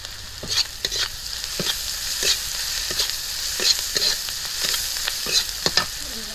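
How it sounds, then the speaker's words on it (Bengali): Fish frying in hot oil as chili powder is stirred in, a steady loud sizzle with repeated scraping stir strokes, close up and without speech. "একটু গুঁড়ো লঙ্কা দিয়ে দিচ্ছি"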